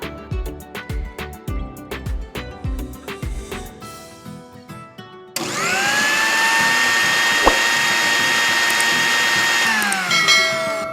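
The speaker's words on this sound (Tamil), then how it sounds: "மிச்சம் இருக்கோத நம்ம அரைச்சி எடுத்துக்கலாம்" Pulses of clicking and rattling give way to a loud, steady high-pitched whine as a small grinder runs continuously, pulverizing Oreo biscuits up close, with no talking.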